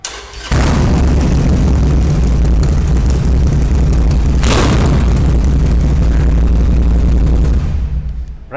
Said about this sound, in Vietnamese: Bây giờ mình nổ thử cho mọi người nghe, nhưng mà không biết là cái micro có thu được cái tiếng bô uy lực này không